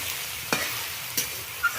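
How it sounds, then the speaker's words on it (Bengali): Snake gourd frying with turmeric in a pan is stirred with three distinct scraping strokes over a steady soft sizzle, close and fairly quiet, with no talking. "এইভাবে নাড়ানাড়ি করার ফলে অনেকটাই কমে গেছে"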